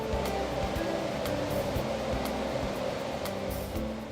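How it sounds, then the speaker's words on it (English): River water roars steadily at the Great Falls Dam on the Washington Aqueduct, a broad, continuous rushing wash with no voices. "This is the Great Falls Dam we're looking at now."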